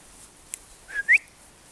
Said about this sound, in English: She can hear whistles.